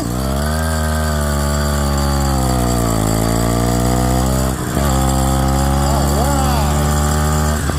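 Small ZTMoto Phantom 85 V3 bicycle engine kit idling close by, a steady, smooth buzzing drone that wavers slightly in pitch as the idle is adjusted, with someone talking over it.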